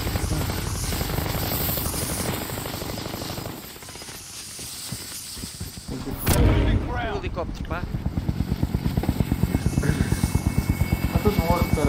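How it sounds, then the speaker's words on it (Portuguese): A helicopter in the video game Warzone thuds with a rapid rotor chop that rises and grows louder toward the end, mixed with other game sounds while players talk over it. "Helicóptero"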